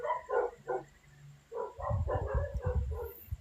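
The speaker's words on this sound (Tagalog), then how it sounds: "Ingay talaga ng mga aso ko." Several dogs barking close by in uneven bursts, sharp repeated barks with a few yips, loud and alone without talk.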